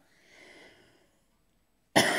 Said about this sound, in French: j'arrête pas de tousser et d'éternuer depuis 2 minutes